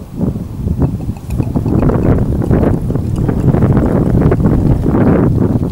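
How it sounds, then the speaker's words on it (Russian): Loud, blustery wind outdoors on a sunny day buffets the microphone in a steady low rumble that builds after the first second and keeps going. "Погодка солнечная, но немножко ветра."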